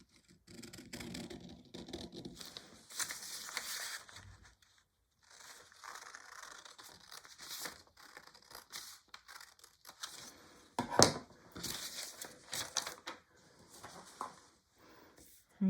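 Scissors snip and slice through paper while a blouse pattern piece is cut out, with crisp cutting strokes, rustling and crinkling of the sheet, and occasional short pauses. Someone talks quietly at moments between the cuts.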